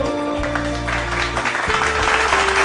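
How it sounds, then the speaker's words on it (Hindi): Audience clapping at a Human Rights Day program in India, a dense continuous patter of applause with steady tones and low hum running underneath. "जोरदार तालियां दोस्तों"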